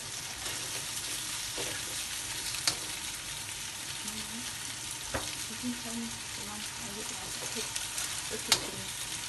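Chicken stir-fries in a pan for Malaysian laksa chicken fried vermicelli, with a soft steady sizzle broken by occasional sharp scrapes and taps of the spatula, fairly quiet overall.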